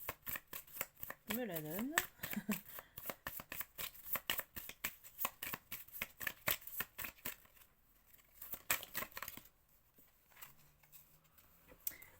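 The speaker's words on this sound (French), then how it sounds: "Je vais prendre une dernière carte" Playing cards are shuffled and drawn for a tarot-style reading, a quick run of papery flicks and snaps mixed in with someone speaking French throughout.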